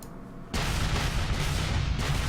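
A Civil War artillery volley in the Gettysburg: The Tide Turns video game opens with a sudden heavy boom. A long rumbling roar follows, and a second blast hits near the end.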